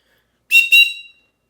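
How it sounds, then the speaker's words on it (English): A single sharp, high-pitched survival whistle blast in two quick bursts, loud and close, with silence before and after. "You got a whistle on the actual pack it's in, and you get a whistle here."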